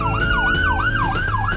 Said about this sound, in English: I've never seen an ambulance actually drive on the wrong side of the street like that